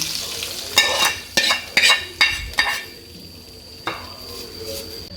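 Tempered mustard seeds poured into a pan of Kerala-style country chicken curry, giving a burst of sizzling followed by several distinct stirring scrapes and metal clinks of a spoon against the pot, close and clear.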